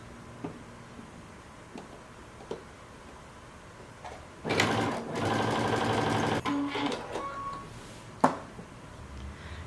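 Sewing machine stitching a double-folded hem close to the edge of a mini dress back piece, heard as a sustained run of mechanical whirring in the middle of the clip, set between quieter clicks and handling sounds, with no talking.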